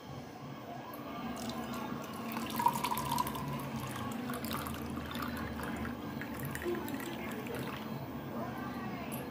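Cold water is poured into a basil-seed (sabja) sherbet drink made from fruit crush, a continuous near trickling and splashing with soft drips and a faint voice beneath.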